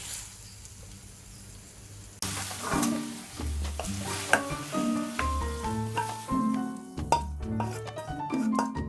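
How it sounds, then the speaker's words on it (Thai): Thai mushrooms in oyster sauce are tossed in a pan with the heat off, a soft sizzle and scraping stir strokes with light clinks over background music. "ปิดไฟเลยคลุกเคล้าให้เข้ากัน"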